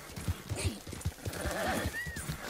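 Horse hooves clip-clop at a steady trot in the Red Dead Redemption 2 video game, with a loud whinny rising near the end, close and clear over faint background ambience.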